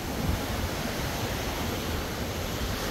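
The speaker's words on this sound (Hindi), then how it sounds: "शाम का वक्त है और समंदर की लहरें।" Evening sea waves along the Jeddah corniche produce a broad, steady wash of surf, soft and continuous with no voices over it.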